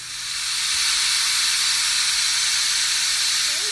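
A pressure cooker on high heat steaming stuffed bitter gourd lets out a loud, steady, rushing hiss of steam that swells at the start and holds unbroken, as the whistle builds.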